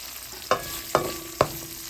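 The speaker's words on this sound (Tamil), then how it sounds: "இப்போ பூண்டு வதங்கிட்டுது. இப்போ வெங்காயம் போட்டுக்கொள்கிறேன்." Onions going into a pan of sautéing garlic and curry leaves, with three sharp metallic spoon knocks against the pan at even intervals over a steady low sizzle.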